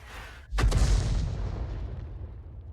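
A 105 mm leFH18B2 artillery gun fires once in World of Tanks, a sharp loud boom followed by a long rumbling decay that fades over about two seconds.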